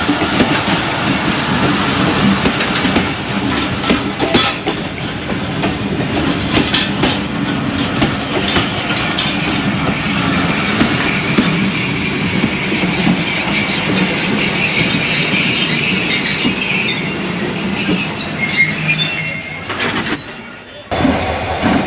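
A locomotive pulls away from a station on a branch line, with loud, steady rolling noise from the rail cars, high wheel squeal and clattering throughout, easing off near the end.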